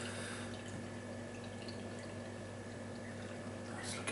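Festival Golden Stag bottle-conditioned beer is poured from a bottle into a glass; a soft, continuous liquid trickle and gurgle runs quietly throughout, close by.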